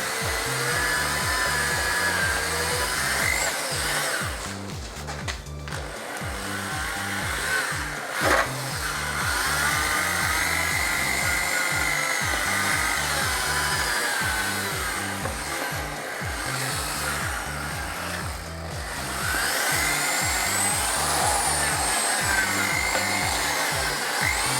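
A power drill polishes away orange-peel texture on spray-painted car wheels, giving a steady, continuous whirring grind that runs the whole time beneath a rhythmic backing beat.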